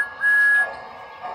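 A Lionel Thomas toy train whistle gives one short, clear, steady high toot, heard close and alone.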